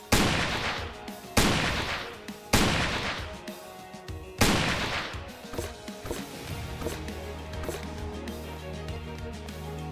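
Sniper rifle shots from the StarWard game's Snowowl character: four loud, sharp cracks spaced a second or two apart, each trailing off in a long echoing tail, then lighter ambient game sounds.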